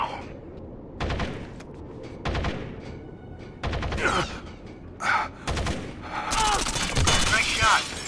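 Gunfire in Rainbow Six: Vegas 2, several sharp bursts of shots at irregular intervals over a dull background, louder and denser toward the end, with game voices mixed in.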